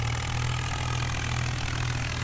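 Tractor engine labouring while stuck in mud in Farming Simulator 19, a loud continuous low drone with a steady throb, unbroken and alone.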